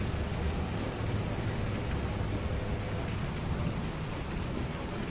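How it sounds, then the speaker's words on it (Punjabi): Steady, dense rain pouring down, a constant hiss with a low rumbling undertone, unbroken throughout and fairly close. "ਵਧੀਆ ਮੀਂਹ ਪੈ ਰਿਹਾ ਜੀ"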